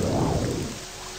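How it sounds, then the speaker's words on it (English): Heavy rain pours steadily in The Elder Scrolls: Legacy, a loud close wash of falling water that eases slightly toward the end, with no speech over it. "With all this rain, that may not be possible."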